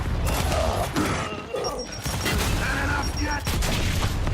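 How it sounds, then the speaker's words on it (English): Grenade blasts boom through a Gears of War match amid dense, continuous gunfire and mechanical clatter, loud and up close, with game voices underneath. "Did I just hear 3 fucking nades go off?"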